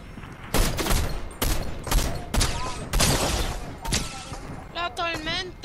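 Gunfire in the video game Fortnite, with several loud bursts of shots in rapid succession separated by short gaps, under excited voices talking over the action.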